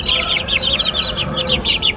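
Purebred chickens, mostly roosters from a flock of more than fifty raised from chicks, cluck and chirp in a busy overlapping run throughout, moderately close, with no talking.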